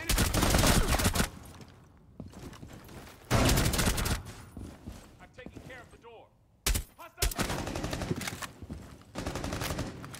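Gunfire in Rainbow Six Siege on the Emerald Plains map, loud bursts of automatic fire alternating with quieter stretches of game noise, up close and repeated several times across the span.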